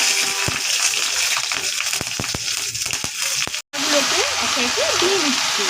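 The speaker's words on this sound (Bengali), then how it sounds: "তেলটা গরম হয়ে গেছে, এবার সর্ষে ফোড়ন দিয়ে নিচ্ছি।" Mustard seeds are tempered in hot oil for a Bengali shapla dish, giving a steady sizzle with scattered crackles and pops. After a brief dropout, a voice talks over the continuing fry.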